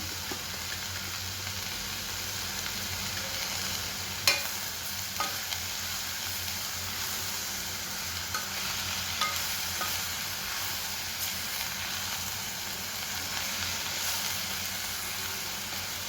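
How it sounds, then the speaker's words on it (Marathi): Spring onion sabzi being stir-fried on low heat in a kadhai after tempering, a continuous soft sizzle with occasional sharp spatula clinks against the pan, close and steady, no talking. "गॅस बारीक ठेवायचा फोडणी करून ही भाजी परतेपर्यंत"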